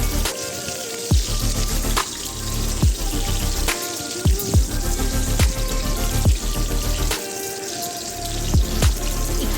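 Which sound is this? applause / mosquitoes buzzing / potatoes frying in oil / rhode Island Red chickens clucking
potatoes frying in oil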